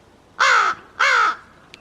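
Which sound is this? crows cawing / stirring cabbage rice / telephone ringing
crows cawing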